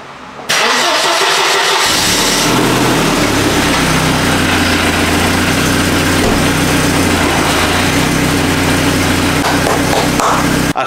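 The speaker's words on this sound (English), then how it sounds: "Let's try to start the car." A Mercedes 190E W201 engine, after an alternator and ignition repair, cranks and fires up after a short pause, then settles into a loud, rough idle close by.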